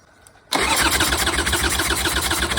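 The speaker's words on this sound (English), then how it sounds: "just give it a couple of revs" After a short quiet moment, a Harley-Davidson motorcycle engine bursts into life and runs loud and steady, throbbing with a fast, regular pulse as it is revved.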